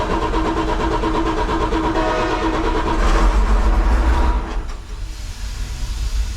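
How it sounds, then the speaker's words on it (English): A cheap rock drill's engine roars loud and continuous as throttle is applied, swelling midway and then easing back slightly. "Let's give her some throttle."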